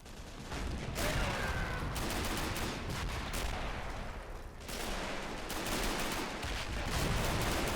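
Sustained .50 caliber machine gun fire in a Men of War battle at Narva, a dense rattling stream of automatic bursts with scattered gunfire and booms from a large Soviet assault with tanks and infantry, loud and continuous.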